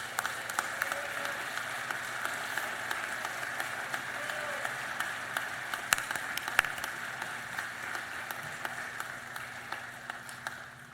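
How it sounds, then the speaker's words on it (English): A graduation crowd claps for new nursing graduates in a large hall, a sustained even roar of many hands held at a steady level, with faint tonal hum beneath. "Please help me congratulate the 2026 ADN and PN graduates with a round of"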